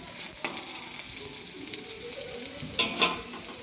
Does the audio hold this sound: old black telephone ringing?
no